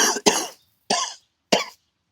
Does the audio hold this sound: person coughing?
yes